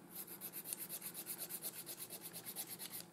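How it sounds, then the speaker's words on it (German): Remaining press-on nail being filed down after it proved too rubbery to grind off, a steady rhythmic back-and-forth rasping of about seven strokes per second, close but soft, with no talking. "Na, dann den Rest muss ich echt feilen."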